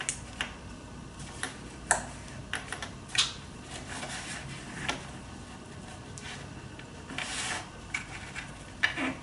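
A sewing machine top-stitches fabric, giving quick uneven bursts of ticking stitches and clicks close up, broken by short pauses, with no talking.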